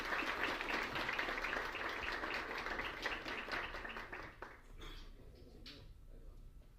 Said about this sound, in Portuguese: Palmas para eles, pessoal.